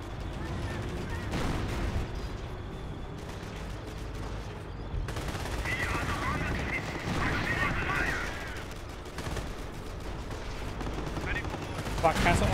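A mounted machine gun firing in the Company of Heroes video game, heard as a steady distant crackle of gunfire mixed with artillery-like booms under a dense battle din, with a sharper bang at the end.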